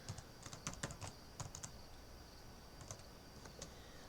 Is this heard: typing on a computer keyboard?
yes